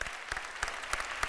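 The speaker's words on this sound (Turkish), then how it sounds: "Alkışlarla, büyük alkışlarla." Studio audience on a Turkish TV talk show clapping for a band's entrance, a short steady patter of applause with regular louder beats pulsing through it.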